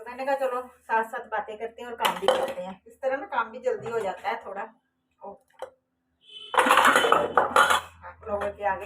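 Dishes, pots and cutlery clatter and clink as they are put away in a home kitchen, with sharp bursts of metallic rattling between and under steady talk from someone speaking Hindi.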